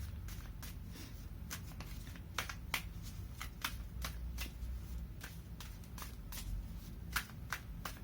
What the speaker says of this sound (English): Let me pull some cards here from the universe.